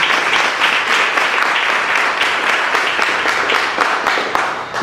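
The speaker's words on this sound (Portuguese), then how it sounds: "Vamos aplaudir a palavra de Deus." A church congregation claps together during a service, a steady burst of many hands ringing out in the hall, loud and continuous with no voices over it.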